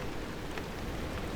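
Steady rain falls outside a garage in the driving game Pacific Drive, a dense, even hiss at low volume with no break in the brief stretch.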